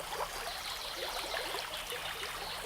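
The River Tame in Tamworth flows with a steady, close trickling and babbling of water, constant and alone with no voices.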